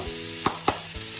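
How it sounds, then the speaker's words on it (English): Beef for Mongolian beef sears in a hot pan with a steady close sizzle, broken by two brief sharp clicks or spatters. "we just seared off the meat a little bit"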